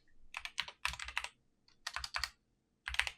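Fingers tap a computer keyboard in quick bursts of sharp clicks separated by short pauses, close and fairly quiet, with no voices.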